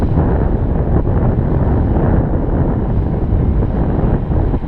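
Heavy, steady wind noise buffets the microphone outdoors while an RC 3D aerobatic model airplane flies, the roar constant and broadband with no clear engine tone rising above it.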